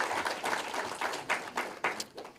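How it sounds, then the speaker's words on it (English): An audience at a regional state address applauds in honour of a municipality, a scattered burst of claps with some louder individual strikes standing out, fairly close and unaccompanied by speech. "Let's give Marintal Municipality an applause"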